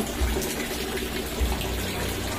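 Steady rushing rainwater pours continuously into a container, a full splashing flow, with no voices.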